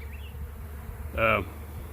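Honeybees from a swarm buzz around the mic; a single bee passes close and loud for a moment with a sharp whining drone, while the rest of the swarm hums faintly in the background.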